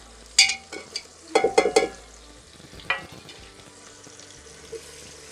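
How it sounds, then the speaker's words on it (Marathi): Spices tipped into an onion and tomato masala frying in a pan, then stirred: a few sharp clinks and scrapes of a spoon over a quiet sizzle, close and without talk. "हे जे मी आता मसाले घेतलेले आहेत ते मी सर्व मसाले साथ ॲड करत आहे"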